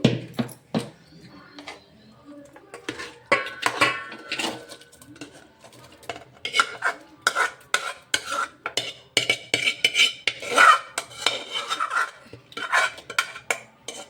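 A spoon clinks and scrapes against a metal pot in irregular bursts as chana dal chitranna is scooped in, with faint background sounds between the clatter.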